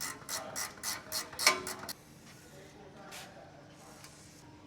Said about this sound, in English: I recommend a ratchet spanner. If you got one that's a little bit longer for the leverage, it would be better.